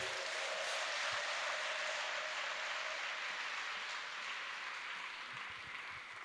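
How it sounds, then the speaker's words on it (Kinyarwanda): A church gathering's congregation claps loudly and steadily, a dense sustained wash of applause that holds for about six seconds with no voices over it. "Muyikomera amashyi yo hejuru twumve."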